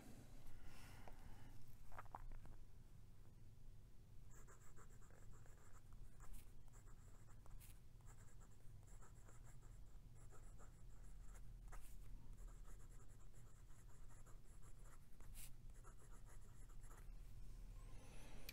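A Pilot Custom 74 fountain pen with a medium nib writes on paper, giving a quiet, close scratching of strokes in bursts with short pauses, faint over low background hum, with no voices.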